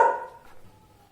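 A single short dog bark at the start, fairly close, fading quickly into a quiet room tone.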